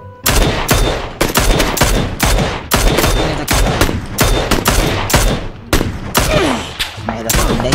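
Gunfire in PUBG comes as sharp, loud bursts of repeated shots, rapid cracks clustered in quick strings with brief gaps between volleys, close and dominant throughout.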